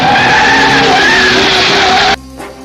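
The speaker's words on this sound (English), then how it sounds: "screeching noises were included as a sound effect" Loud, sustained tire screeching from a car in a James Bond film chase on a dirt road, a harsh wavering squeal that cuts off abruptly near the end into quiet.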